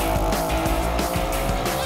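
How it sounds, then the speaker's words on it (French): Motobécane moped engine revving hard as it accelerates in a race, a loud continuous buzzing drone with pitch changes, close by, with a voice briefly audible. "C'est maintenant au tour de la motobécane de s'élancer."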